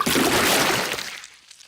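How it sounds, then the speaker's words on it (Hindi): Dirty water is flung over a car in a children's cartoon: a loud broadband splash and pour that swells at once, then fades into a thin trickle and drips. "पेपा ने गंदा पानी पूरी गाड़ी के ऊपर फेंक दिया"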